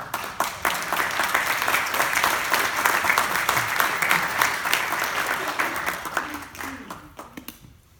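Applause from the audience at a press conference about racism at a Naperville Buffalo Wild Wings restaurant: sustained, dense clapping that holds steady, then tapers off and fades out toward the end.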